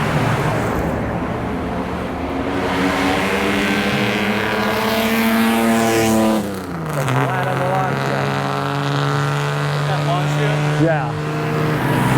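A classic Mercedes on the Pebble Beach Tour d'Elegance, running a non-original exhaust, drives past with a loud, throaty engine note whose pitch rises, then drops as it passes, followed by more engine sound.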